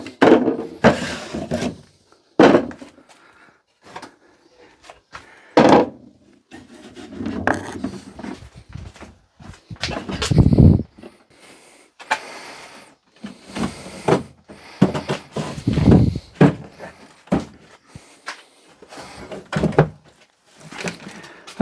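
Vintage wooden cupboards being shifted in a storage shed, giving irregular bursts of wooden scraping, rubbing and knocking with short pauses between, close and moderately loud, no speech.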